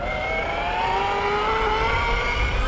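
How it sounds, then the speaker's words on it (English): A YikeBike Model V electric folding bike rides past at speed, its motor giving a smooth, rising electric whine over steady road and wind rumble, fairly loud and close throughout. "Do you want to do like a drive-by at higher speed?"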